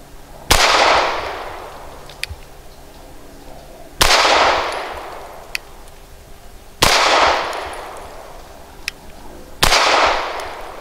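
Four loud, sharp pistol shots from a Grand Power K100 fitted with Meprolite night sights, fired outdoors about three seconds apart, each with a decaying echo and a faint distant report between them.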